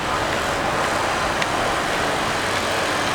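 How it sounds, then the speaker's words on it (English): A steady, broad roar of a helicopter hovering overhead near Westminster, London, loud and unbroken throughout with no talking. "There's an helicopter hovering about up there."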